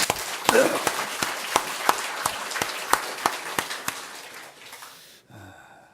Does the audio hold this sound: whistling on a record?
no